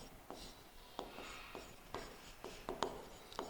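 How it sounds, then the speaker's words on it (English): Handwriting on paper produces faint, close scratching pen strokes with several crisp ticks spaced irregularly, quiet and alone with no talk. "So write the name here, to balance BD,"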